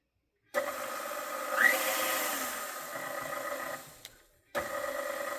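A KitchenAid stand mixer, long overdue for regreasing, starts up with a steady whirring motor drone and faint clicking, pausing briefly near the end before resuming, with no voices.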